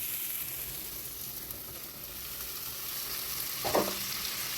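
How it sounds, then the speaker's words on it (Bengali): Potatoes and spices frying in a pan are stirred, giving a steady, fairly quiet sizzle with a brief scraping stir near the end, and no one speaks. "একটুখানি নাড়াচাড়া করে নিয়ে এবার এর মধ্যে দিয়ে দেবো মোচা সেদ্ধটা"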